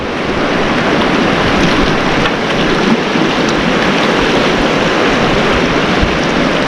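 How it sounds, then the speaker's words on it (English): Rushing water from a small stream merging into the Virgin River in the Zion Narrows slot canyon, a steady, dense, close wash of flow that holds even from start to finish with no voices. "It's a small stream merging into the Virgin River here."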